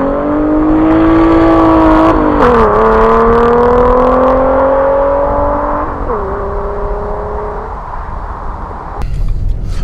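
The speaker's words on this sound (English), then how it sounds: "Now I can show you another video of this car launching and spinning like all hell." A Ford with a 3.7 engine launches hard and spins its tires, the engine roaring loudly with rising and shifting tones that ease off toward the end, close and dominant.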